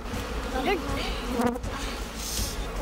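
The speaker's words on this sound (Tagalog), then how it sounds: "Hanggang ang mga bubuyog tuluyan ng nagpulasan." A swarm of honey bees scattering from a smoked hive, a continuous close buzzing drone with a couple of passing pitch sweeps as bees fly near, under a low background rumble.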